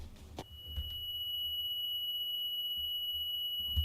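Ear-ringing effect after a bomb blast in a video game: a thin, steady high-pitched tone pulsing faintly over a quiet muffled rumble, with a couple of soft thumps, no speech.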